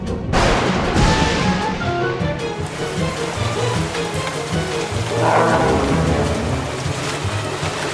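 Cartoon storm effect of heavy rain pouring steadily with rolling thunder rumbling through, loud and continuous with no voices.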